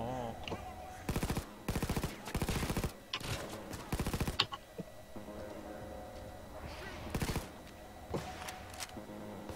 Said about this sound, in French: Le sniper qui a essayé de tirer.